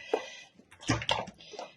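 Liver pancake batter poured from a bottle into a heated frying pan gives a few soft, wet glugs and sloshes in short bursts, fairly close and quiet.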